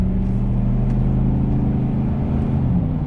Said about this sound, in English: It sounds more like a truck.